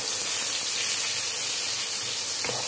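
Chopped onions hit hot oil and ghee for a Bengali-style chicken korma, giving a steady, close, broadband sizzle that runs unbroken throughout, with a brief sharper crackle near the end.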